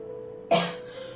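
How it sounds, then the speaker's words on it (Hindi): A single sharp, close cough bursts out over a steady low electrical hum, then fades quickly, from a person with a persistent two-week cough and phlegm; no talking. "2 हफ्ते से खांसी बहुत ज़्यादा हो रही है।"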